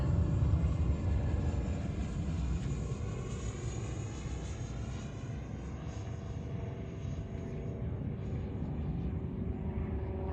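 Twin 64mm electric ducted fan RC MiG-25 Foxbat jet model with outrunner motors making a flyby, a steady loud whooshing roar that holds across the whole pass without fading away.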